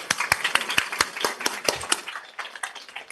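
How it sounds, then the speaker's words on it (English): Sparse, crisp hand claps from a small audience at a legal technology roundtable hosted by the Law Society, about a dozen sharp claps over a few seconds that thin out toward the end, with no talking. "may I first invite you to join me in giving a round of applause to the President of the Law Society"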